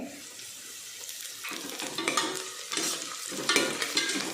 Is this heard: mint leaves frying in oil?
yes